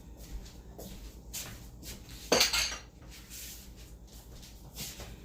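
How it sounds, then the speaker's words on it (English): A utensil stirs and scrapes guacamole around a bowl in a home kitchen, making soft repeated clinks and scrapes with one louder clatter near the middle, heard close with no voices. "Now I'm just gonna mix it up."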